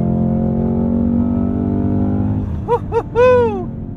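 Cadillac CT5-V Blackwing engine roaring under full throttle, a steady low drone that snaps through quick no-lift upshifts near the end, each marked by sharp rising pitch sweeps, loud and close from inside the cabin.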